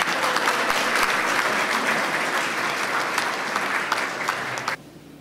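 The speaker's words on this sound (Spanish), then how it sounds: "para quien pedimos un fuertísimo aplauso" A large audience at the 70th anniversary event of Peru's national merchants' confederation gives loud, sustained applause welcoming Alan García, the clapping holding steady before cutting off sharply near the end.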